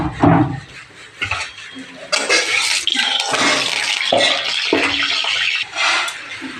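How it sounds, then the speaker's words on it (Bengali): A metal wok clanks onto a stove, followed by oil pouring in with a splashy, liquid rush and a few more knocks and scrapes, loud and close. "কড়াই বসিয়ে দিলাম, দিয়ে দেব তেল।"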